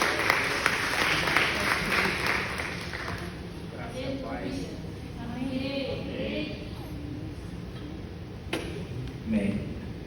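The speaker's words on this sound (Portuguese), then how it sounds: "Você pode aplaudir o Senhor?" A congregation claps during a church service: a broad wash of applause at the start fades into the background as voices take over, with a few light clicks scattered later.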